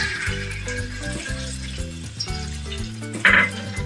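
Ground spice paste of ginger, black pepper and fennel goes into a hot pan for a Bengali rui fish curry and sizzles continuously at a moderate level. Background music plays throughout, and a short, sharper crackle comes near the end.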